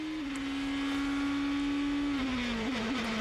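Lewis Hamilton's GP2 race car screams past at the Turkish circuit in 2006, a loud, sustained high engine whine that holds steady, then dips and wavers as it goes by.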